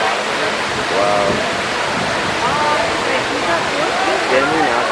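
Water rushes continuously from the Mirage casino waterfall on the Las Vegas Strip at night, a loud, steady, broad hiss and splash, with people talking over it.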